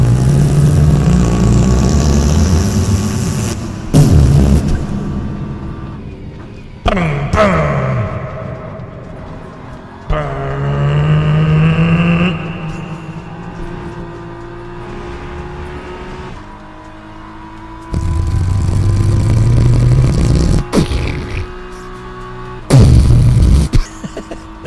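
Car engines in a sim racing game roar and rev, rising and falling in pitch as gears shift, with whooshing passes and occasional faint talk underneath.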